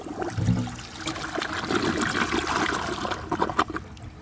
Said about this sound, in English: So it took 2 flushes,